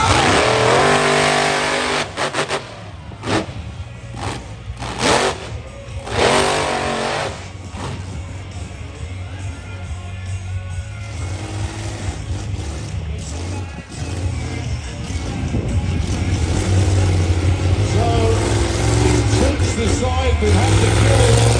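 Monster trucks launch off the start line at a UK Monster Truck Nationals race, their engines roaring and revving loud and close in repeated surges, with voices over the din.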